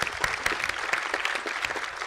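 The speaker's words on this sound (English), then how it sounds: "Let's have a round of applause for her." A crowd claps steadily and enthusiastically at an awards event, dense applause filling the whole moment without pause.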